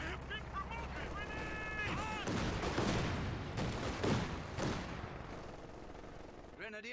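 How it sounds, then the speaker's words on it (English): Gunfire crackles through a World War II battle video game, bursts of small arms and heavier shots rattling at moderate distance amid combat noise, with voices calling out over the shooting. "They're shooting at us! Squad, double time! Move! We have small arms fire!"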